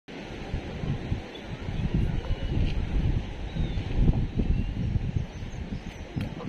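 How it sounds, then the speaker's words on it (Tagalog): Steady wind blows outdoors near the cliffs of Étretat on the Normandy coast, a continuous low rumbling gust buffeting the microphone with shifting surges and no talk. "Mahangin sa labas."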